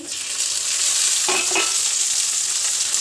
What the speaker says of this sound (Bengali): আর একটু নুন দিয়ে দেবো তাতে টমেটোটা ভালো মতো ভাজা হয়ে যাবে